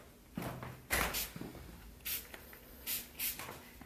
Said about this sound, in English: I'm going to spray a little bit of it all over.